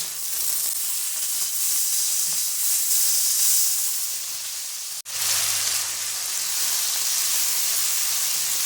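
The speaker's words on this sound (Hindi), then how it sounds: "चिकन डाल के इसे हमने बस इतनी देर भूनना है कि ये पिंक से वाइट हो जाए" Boneless chicken cubes frying with softened onions in a pan for biryani, a steady loud sizzle and hiss that runs throughout, close, with one brief dropout partway.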